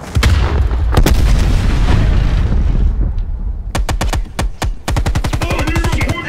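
Gunfire and a grenade blast in the Call of Duty Black Ops Cold War campaign: a loud rumbling explosion roll, then sharp single shots and a rapid automatic burst, close and punchy.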